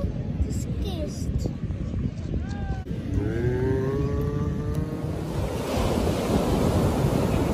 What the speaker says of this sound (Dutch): Ah, dit zijn hoge golven.